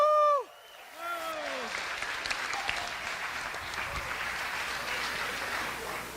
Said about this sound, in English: Give all my friends there a round of applause